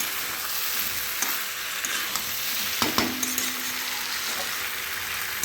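Prawns and pointed gourd simmer in a pan of curry, giving a steady close sizzle with scattered clinks and scrapes of stirring, no talk heard.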